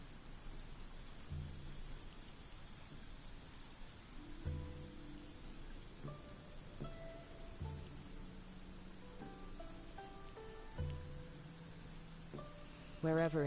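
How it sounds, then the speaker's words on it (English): A downpour in Genshin Impact gives a soft, steady rain hiss under gentle game music notes, all fairly quiet. "The downpour certainly rouses the spirit."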